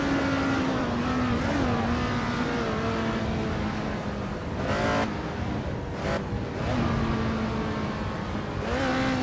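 1967 Tasman Series race car engines in Assetto Corsa at Pukekohe, loud continuous roar rising in pitch as they accelerate down the straight, with brief gear-change dips and a passing car or two.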